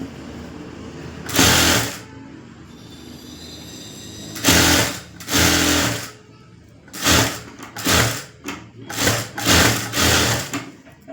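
A sewing machine stitches a full blouse lining, boutique style, in a series of short loud bursts separated by pauses, growing quicker and more frequent toward the end, with faint talk in the gaps.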